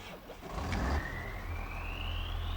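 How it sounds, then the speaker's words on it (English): Truck-like vehicle engine in Farming Simulator 25 starting up and running, a low steady rumble with a rising whine as it revs, heard alone without talk. "when you start it up, it sounds like it's got a truck engine"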